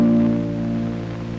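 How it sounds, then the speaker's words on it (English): A classical guitar note is plucked over the fingerboard, giving a mellow, warm tone that sustains evenly and alone for a little over a second. "by plucking over the fingerboard, we can get a very mellow sound."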